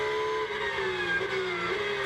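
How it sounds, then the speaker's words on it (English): A Porsche GT race car engine at Spa-Francorchamps during a 24-hour GT World Challenge race, a sustained loud engine roar heard briefly at a distance, without commentary over it. "Great sound as ever from the Porsche."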